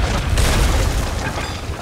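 A ship's cannon fires in the pirate video game Sea of Thieves, heard as a loud, close, deep boom with a rumbling low-end tail that fills the short moment.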